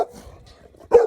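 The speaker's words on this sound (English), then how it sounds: "his barking doesn't sound vicious" A boxer dog barks nearby: one short bark at the start, a low grumbling pause, then a second louder, sharper bark at the end.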